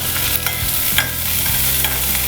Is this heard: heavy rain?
no